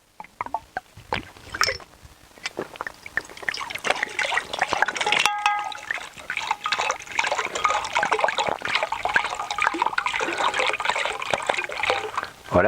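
Water poured steadily into a container holding about one litre, a continuous close trickling and splashing stream after a few initial taps, moderately loud throughout.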